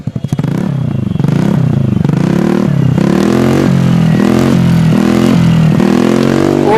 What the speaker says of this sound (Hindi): बस एक एग्जॉस्ट और है, इसको भी ट्राई कर लेते हैं एक बार, किसका साउंड कैसा आता है।